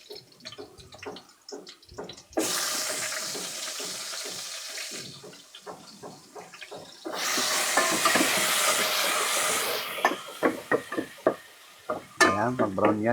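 Onions hit a pan of browned garlic and fry with a loud, steady sizzle in two long bursts, between clinks and scrapes of stirring.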